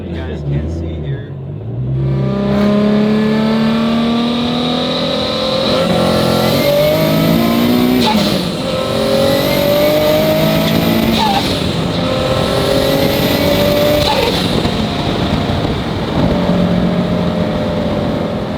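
Turbocharged widebody Nissan 350Z pulls hard under full acceleration, a loud, close engine rising in pitch through the gears with a brief shift break, the car hooking up cleanly in second; a voice speaks faintly under the engine noise.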